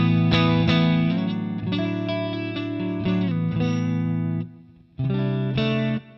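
An electric guitar rings out through a new amp with distortion, strummed chords sustaining loud and close, briefly choked near the end before one more chord rings.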